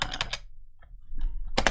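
A computer keyboard typed in short bursts, a quick cluster of clicks, a pause, then another burst of keystrokes, close and clear.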